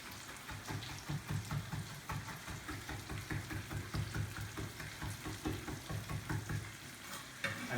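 Soft sizzling of squash frying in a pan, with rhythmic scraping and shuffling as it is stirred and pushed around, fairly quiet and close.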